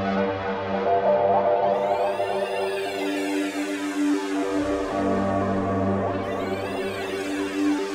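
An FM8 software synth preset warped in real time by a joystick morph control: a dense sustained pad whose tone sweeps and bends in arcing glides, shifting character midway, loud and continuous with no voices.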